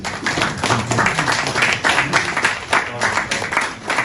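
Audience clapping in bursts at a Ghanaian talk about cocoa prices, fairly close and loud, with uneven surges of hand claps over a low murmur of voices.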